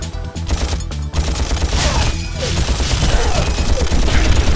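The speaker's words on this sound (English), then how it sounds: "in a game where every weapon is cartoonishly huge, this one sounds like a real gun for some reason" Blaster gunfire in the 2002 Ratchet and Clank video game, rapid repeated loud shots in a dense sustained volley over game sounds, sounding like a realistic gun.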